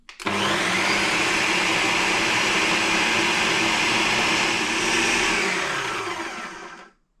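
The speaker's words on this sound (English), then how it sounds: "So you can see the different layers that are in the Ninja. I'm now going to mix this up a little bit." A Ninja blender whirs loudly and steadily for about six seconds while mixing dry ingredients for a nutty seeded loaf, starting abruptly and then winding down to silence.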